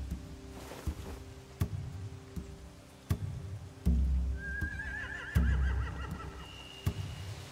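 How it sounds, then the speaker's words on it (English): In The Walking Dead video game, a horse gives a clear whinny partway through, alongside sharp periodic thuds and low rumbling game ambience, fairly quiet overall. "They have horses."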